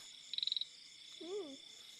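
Frogs call at night during an outing to catch frogs and fish, with a quick series of sharp trilled clicks followed by a single lower, rising-and-falling croak. The calls are fairly close over quiet background hiss.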